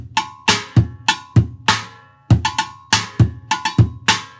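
Buckets struck by hand or sticks in an easy, conversational rhythm, sharp hollow hits in short clustered phrases with brief pauses, close and unaccompanied.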